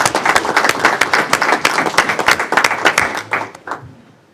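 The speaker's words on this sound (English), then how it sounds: "let's give them a round of applause" Lively applause from a city council meeting audience honoring student athletes, brisk close clapping from several people that thins out and stops after about four seconds.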